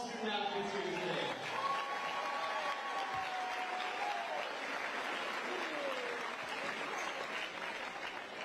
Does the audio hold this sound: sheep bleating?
no